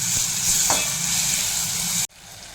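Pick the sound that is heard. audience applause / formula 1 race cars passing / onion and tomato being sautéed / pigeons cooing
onion and tomato being sautéed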